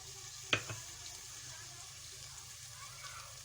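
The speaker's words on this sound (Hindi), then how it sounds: "लहसुन अदरक का पेस्ट हमारा भून गया" Garlic-ginger paste frying in a pan gives a quiet, steady sizzle, broken early by a sharp clatter of a stirring utensil against the pan.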